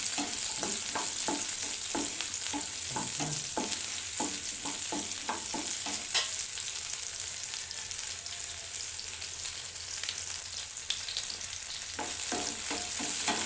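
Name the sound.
onion and garlic sautéing in a pan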